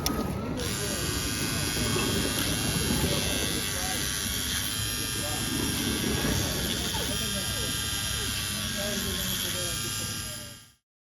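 A steady, close electric whine from a tire truing machine sanding a Carrera 1/32 digital slot car tire with fine grit, running continuously for about ten seconds before cutting off, with someone talking over it.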